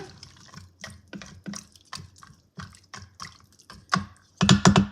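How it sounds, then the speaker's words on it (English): A spoon stirs seasonings into smoked sausage and pinto beans in an Instant Pot, giving a run of separate wet clicks and scrapes at close range, ending in a louder cluster of clatter. "We're going to stir this up. Get the seasonings mixed up in there."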